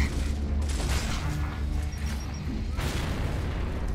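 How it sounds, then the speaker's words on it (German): A dense, rumbling grenade explosion and battle noise in Gears of War fill the whole stretch, loud and continuous with a second burst near the end. "aber trotzdem schön explodiert"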